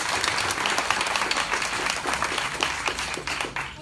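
Audience applause at a Boston District 8 city council candidate forum in 2019: a dense, steady wash of many hands clapping, loud and continuous throughout before easing slightly at the end.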